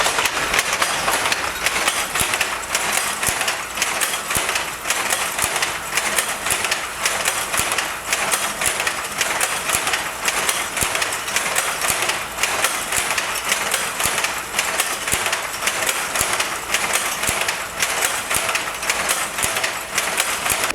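A power loom weaving silk sarees clatters in a steady, rapid mechanical rhythm, loud and continuous throughout with dense repetitive clacking and no talk.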